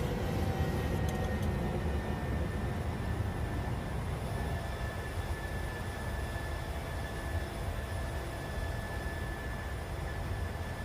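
Engines of a Boeing 737-600 in a flight simulator roar steadily, a broad continuous drone with a faint whine that holds its level the whole time, with no voices over it.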